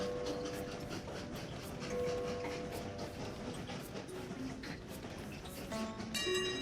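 Trains in the video game Train Valley roll along with a quiet, steady rumbling clatter, and a few bright chime-like tones ring out near the end.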